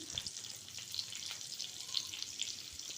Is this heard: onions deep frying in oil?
yes